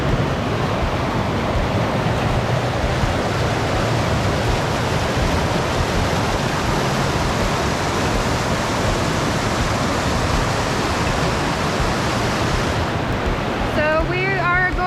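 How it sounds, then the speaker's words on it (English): Waterfalls pour into a mountain creek from both sides along the Mine Road Trail near Snow Gulch, making a dense, constant rushing roar that stays close and unbroken throughout, with no voices. "There's waterfalls that come in from the sides on this, on both sides."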